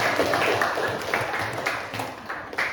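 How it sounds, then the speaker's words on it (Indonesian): Classmates clap for group three in a school classroom, a steady patter of hands with a few sharper claps standing out, fairly close and moderately loud, with faint voices underneath. "Tepuk tangan dulu untuk kelompok tiga."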